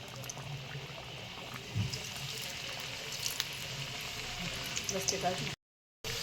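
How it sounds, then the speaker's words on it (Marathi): Pigeon pea kachori deep-frying in hot oil over a medium flame makes a continuous bubbling sizzle with small spitting pops, then cuts out briefly near the end. "मीडियम गॅसवर छान अशा लालसर तळून घ्यायचे आहे"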